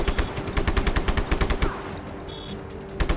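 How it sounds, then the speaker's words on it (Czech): Rapid bursts of automatic gunfire in the video game Just Cause 3, a fast steady rattle of shots for over a second, then a pause and a few more shots at the end. "Někdo tu po mně zase střílí."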